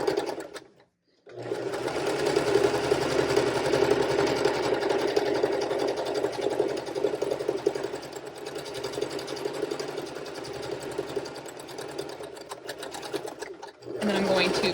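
A sewing machine stitching the crotch seam of pajama shorts, a loud close steady mechanical hum running continuously after a brief stop at the start, ending with a short pause for a backstitch.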